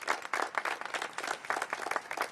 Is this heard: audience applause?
yes